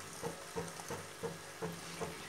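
Boiled macaroni being stirred in a hot pan, six soft evenly spaced scraping stirs over a faint sizzle, quiet and close.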